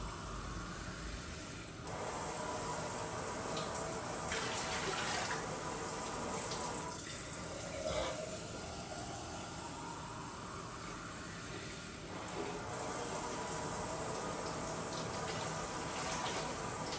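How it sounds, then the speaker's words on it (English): Water pours steadily from a pint glass into a pressure canner in several long gushing pours. Brief pauses fall between refills, and the sound stays continuous and fairly close, with no talk. "I'm using a pint glass, so I'll be pouring in 4 pints"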